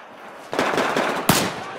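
A Marlin-type sniper sidearm in Battlefield 4 fires two sharp, loud gunshots about a second apart, each with a short ringing tail.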